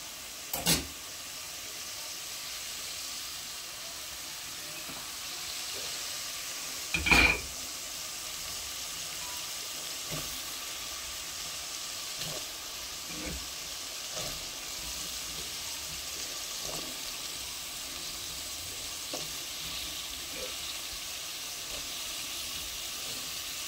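Spices for a vegetable dish frying in a pan and being stirred, a steady broadband sizzle running throughout with occasional sharp scrapes and clinks of the spoon, one louder knock near the start and another about a third of the way in.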